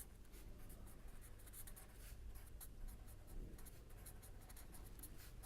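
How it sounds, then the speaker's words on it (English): Faint, steady scratching of writing during a statistics lecture on likelihood ratio tests, a soft continuous rasp with small strokes and no speech heard. "Let us write down the likelihood function."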